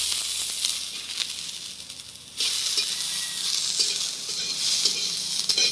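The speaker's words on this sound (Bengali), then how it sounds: "রসুনটা একটু ভাজি ভাজি করে নিব। ভেজে নিব।" Garlic frying in hot oil makes a bright, continuous close-up sizzle that swells noticeably louder partway through and then holds steady.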